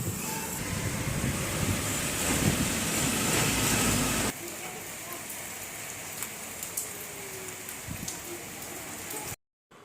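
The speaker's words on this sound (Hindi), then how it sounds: "बारिश को तो पूछिए मत, इतनी तेज़ वाली हुई" Dense, steady hiss of heavy rain pouring down for several seconds, then the downpour sounds softer and thinner before cutting out abruptly.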